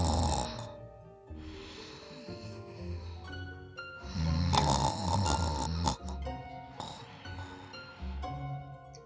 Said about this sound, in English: lets out a loud, gurgling snore.